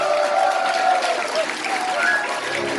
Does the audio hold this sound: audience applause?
yes